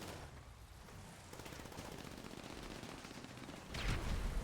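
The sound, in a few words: gunfire from a vehicle in a battle royale video game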